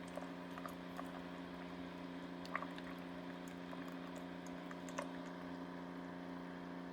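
A Keurig K-Select machine brews coffee through a reusable K-Cup, giving a steady mechanical hum under a soft trickling stream, with occasional small ticks and spurts; no speech.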